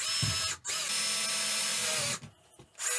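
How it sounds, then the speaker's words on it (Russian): A power drill whirs steadily for a couple of seconds, drilling a hole through the center of a plastic bottle cap, briefly cutting out, then stops with a short pause before spinning up again. "По центру сверлим отверстие."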